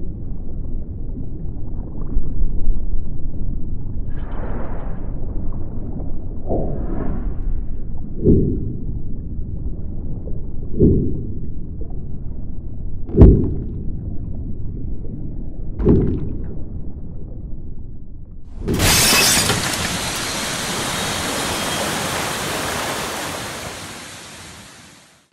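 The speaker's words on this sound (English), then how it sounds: "we've got the second cut to the wall of water rushing out of the window space" A designed wall of water bursts out through a window space. Scattered thuds and splashes build to a sudden, loud, roaring gush that holds steady and then fades away.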